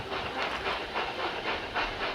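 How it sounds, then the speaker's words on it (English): Steam engines chuffing in a steady rhythmic puff, a broad hissing rush repeating about twice a second, with no voices. "James and Edward puffed into the yard."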